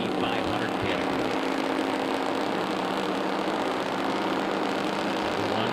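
Weld Racing Terminator GT500 drag cars idle toward the starting line at an NMRA drag race, a steady, continuous engine drone with a broad roar that stays loud and even throughout.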